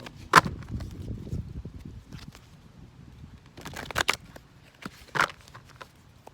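Tarot cards being shuffled close by in short, sharp bursts of snapping and riffling, separated by quieter pauses.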